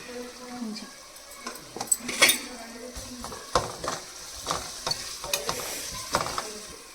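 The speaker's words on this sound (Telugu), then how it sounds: "అల్లం పేస్టు పచ్చివాసన పోయే వరకు ఎంపుకోవాలి" Ginger paste frying in plenty of oil in a pan for a coconut masala beans curry, with soft sizzling and intermittent scraping stirs of a spoon against the pan, close by.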